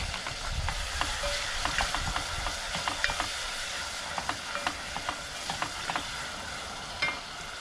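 Tomatoes fry with onion and a cinnamon stick in oil, making a soft continuous sizzle with repeated clicks and scrapes of stirring, moderately close and without speech.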